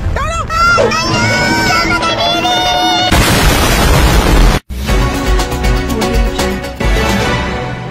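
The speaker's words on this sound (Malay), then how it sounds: "Alamak, kedai Mutu meledak." A cartoon explosion wrecks a shop, a sudden loud blast and crackling roar that cuts in after excited voices, followed by further talk over lingering rumble.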